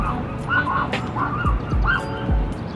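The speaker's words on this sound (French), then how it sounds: "Oh, le chien, elle est vénère." A dog barks and yips in short agitated bursts in a quiet residential street of Yokosuka near the naval base at sunset, three or four sharp calls spaced out at moderate distance.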